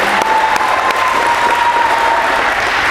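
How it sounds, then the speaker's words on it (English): Loud, sustained audience applause fills a basketball camp gathering, dense clapping from a crowd that holds steady for a few seconds with a faint tonal whine beneath it. "Give one more round of applause for Coach Sam."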